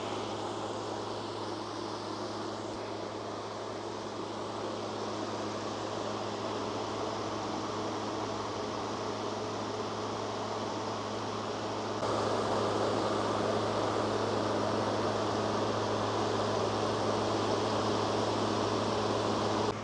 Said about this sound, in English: I'll let you know on screen how long the air conditioner ran on high cool with just the Jackery 2000